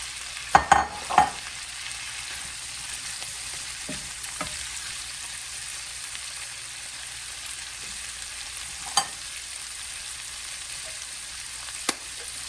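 Broccoli and shrimp stir-frying in a skillet, a steady hiss of sizzling throughout with a few sharp scrapes and taps of a utensil early on and occasional clicks.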